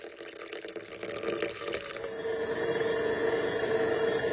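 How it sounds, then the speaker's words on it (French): Cold water poured into a beaten egg mixture while making Tunisian cauliflower fritters, a steady liquid pour that builds to a continuous splashing stream, close and alone. "pour retirer l'odeur de l'œuf, on va ajouter de l'eau froide"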